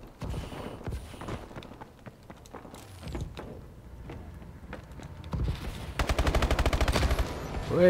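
Gunfire from a picked-up weapon in Call of Duty: Advanced Warfare: scattered single shots and thuds give way to a loud, rapid automatic burst near the end, with no talking over it.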